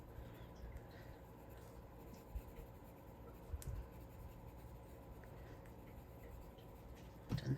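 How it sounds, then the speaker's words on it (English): Watercolor pencils, yellow and red, colouring on paper for a caramel apple treat holder give a soft, steady scratchy rubbing that runs almost the whole time, quiet and close, with no talking. "So I am going to bring in my watercolor pencils."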